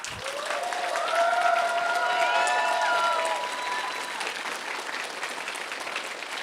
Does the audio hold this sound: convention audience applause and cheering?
yes